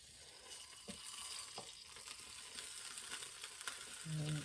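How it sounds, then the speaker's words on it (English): A soft, steady sizzle of spilt gravy frying in a hot non-stick pan, quiet and continuous, with a few faint clicks and a brief low hum near the end. "You can hear that gravy that's just spilt out, sizzling away there."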